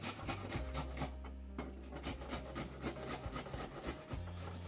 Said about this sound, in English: I'm going to shred it on my grater.